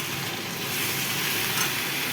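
Meat drops into a hot pan of frying onions and spices, and a steady, close, loud sizzle runs through the whole stretch with no voices.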